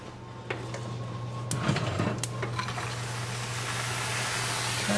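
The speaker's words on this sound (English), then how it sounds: "I'm going to steam it" Ice goes into a hot oven to steam semolina bread topped with sesame seeds, with a few metallic clanks and clatters at first, then a steady hiss of steam over a constant oven hum.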